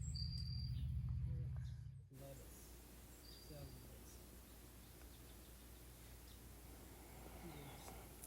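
Crickets and insects chirping on a warm summer night, faint, thin repeated chirps in a quiet outdoor setting after a brief louder low hum at the start.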